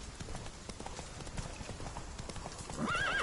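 Roach, Geralt's horse in The Witcher 3, gallops with rapid, close hoofbeats and then lets out a loud neigh near the end, with a voice faintly under the hooves.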